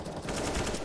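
Steady automatic gunfire from a first-person shooter game, a continuous rattling stream of close, fairly loud shots with no break.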